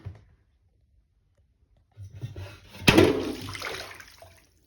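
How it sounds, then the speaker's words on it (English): Water gushes over a Lego Technic Ferrari set, a sudden rushing splash after a brief click, pouring steadily for a couple of seconds before tapering off; no talking. "Now it's time to flood this Ferrari with a bunch of water."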